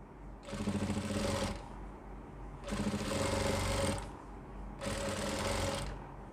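A sewing machine stitches a folded side seam of baby pant fabric into a waistband, running in three steady bursts of about a second each with short pauses between them.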